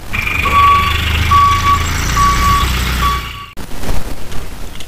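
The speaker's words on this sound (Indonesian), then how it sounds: "Wow, ada mobil damter teman-teman." A dump truck rolls along with its engine rumbling loudly nearby while a reversing alarm sounds four evenly spaced beeps, then the sound cuts to rougher road noise.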